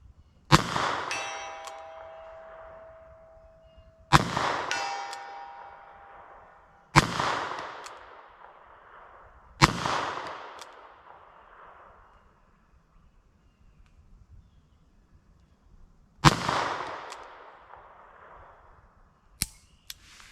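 Gunshots from .45 ACP semi-wadcutter rounds fired at steel targets: six sharp cracks spaced a few seconds apart, each followed by a ringing metallic clang. The shots are loud and close, with no voices.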